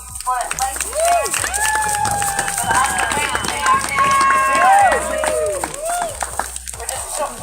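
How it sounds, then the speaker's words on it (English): Street protest crowd in St Paul, Minnesota gives a round of applause and cheers, scattered clapping and shouts outdoors, with a voice speaking over the crowd and whistle-like tones throughout. "You can give another round of applause for Lacy"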